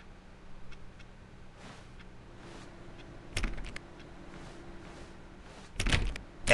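Clicking on a door in The Stanley Parable, faint scattered ticks over a quiet room tone, then two louder bursts of rapid clicks or knocks near the end.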